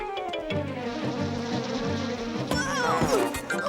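A cartoon honeybee buzzes steadily and close, its droning hum carrying over a music score, with a rising zip of sound near the end.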